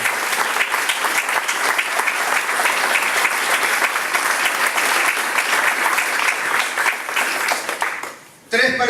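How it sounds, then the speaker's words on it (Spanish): A church congregation at a Spanish-language service gives loud, sustained applause: a thick, continuous wall of clapping that drops away abruptly near the end. "Denle un fuerte aplauso nuevamente al Señor por su palabra"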